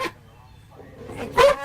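A man imitates a dog, giving a single short bark-like yelp near the end, loud and close, after a quiet stretch with faint room noise.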